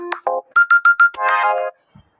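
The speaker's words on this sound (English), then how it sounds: "you can select any of the ringtone" Android phone alarm ringtone playing a bright electronic melody of quick, evenly spaced tones followed by a brief held chord, loud and close, then silence.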